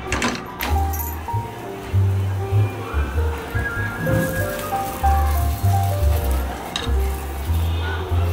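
Palak paratha frying in oil on a hot pan, a steady crackling sizzle with occasional stirring or pressing noises, close and fairly loud throughout, no talk.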